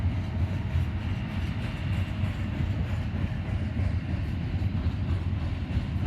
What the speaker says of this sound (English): And this is a intermodal train.